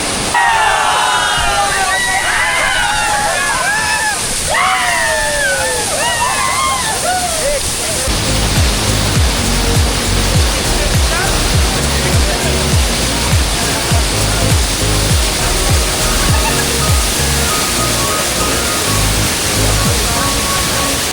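A waterfall hidden in the Sahyadri mountains near Chiplun roars loudly and without a break. Excited voices carry over it at first, then the crashing water alone dominates.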